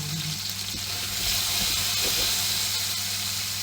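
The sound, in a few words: meatballs frying in oil in a pan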